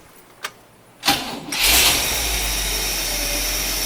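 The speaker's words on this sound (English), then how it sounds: "So we'll fire it up, and we'll see if it sounds any different than before." A 1956 Cadillac Sedan DeVille engine cranks after a couple of clicks, catches, and settles into a loud, steady idle with a smooth low rumble and airy hiss, heard up close with no talking.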